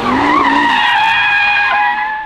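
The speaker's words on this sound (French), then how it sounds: "Conduire légèrement de travers, on va essayer." A 2021 Audi RS3 Sportback drifting, its tires giving a loud, close, sustained squeal that wavers in pitch and then holds steady before fading slightly at the end.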